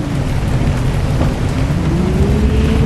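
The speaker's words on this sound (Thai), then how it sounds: "นี่คือฤดูฝนจริงๆนะเพราะภาคใต้ก็ฝนตกนะครับตอนนี้" Steady heavy rain from the Bus Simulator Ultimate driving game, a loud continuous wash with a low engine hum running underneath, no voices.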